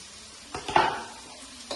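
Garlic, ginger and tomato sauté in a pan, a brief close sizzle flaring up as the ingredients are stirred, with a few light scraping knocks.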